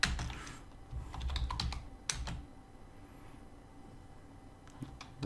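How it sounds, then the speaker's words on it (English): Clicks of typing on a computer keyboard come in short irregular bursts, close and fairly quiet, with pauses between runs of keystrokes. "I still can't type."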